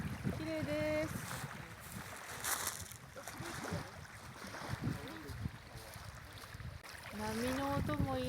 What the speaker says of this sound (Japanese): 波の音も癒される。